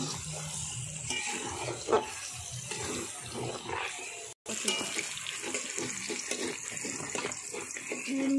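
Water runs out and drains when something is pressed down, with a continuous splashing trickle and a brief break midway, and a voice murmuring faintly behind it.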